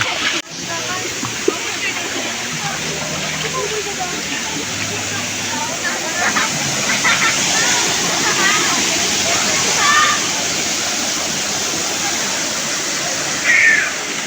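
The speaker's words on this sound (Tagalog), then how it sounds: "At ipapakita ko sa inyo ang maliit na falls dito." A small waterfall at Pangero gives a steady, close rush of falling water that fills the whole stretch, with faint voices now and then beneath it.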